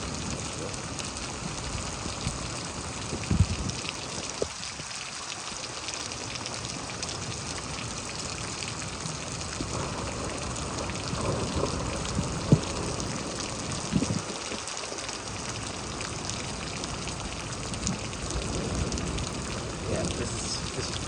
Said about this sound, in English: so much rain just fell so fast